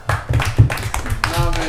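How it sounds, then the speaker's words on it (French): Brief applause for Jean-Michel from a small studio audience: quick rhythmic hand claps, close and fairly loud, with a voice talking over them. "Et on applaudit tous Jean-Michel."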